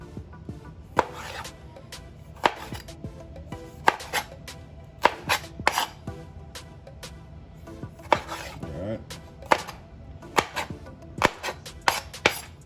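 A knife fine-dices cherry tomatoes on a cutting board while shrimp scampi is being prepared, giving a steady run of sharp, close taps with the occasional soft clatter of the board and the knife.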